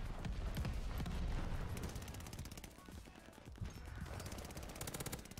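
An MG42 machine gun firing in the video game Warzone Pacific: loud, dense rapid bursts of automatic fire almost continuously, with explosive booms mixed in.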